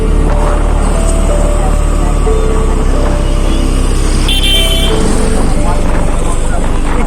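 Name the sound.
traffic jam with vehicle horns honking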